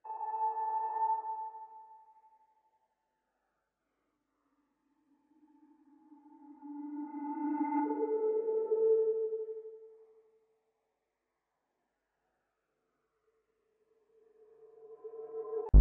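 Tonal guitar-like swells fade in and out in separate phrases with gaps of silence between them, smooth and reverberant with reversed-sounding attacks.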